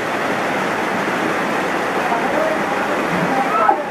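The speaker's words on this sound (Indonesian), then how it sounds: "Ini kebetulan di sini waktu turun hujan sangat deras sekali," Very heavy rain pours down at a cattle farm in Indonesia, a dense, continuous roar of drumming water that stays loud and even for the whole stretch, with no other sound standing out.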